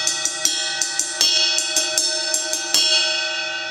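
A baiao bell pattern played on a drum kit's bell, bright metallic strikes in a repeating syncopated rhythm with ringing overtones, close and clear, with no talking.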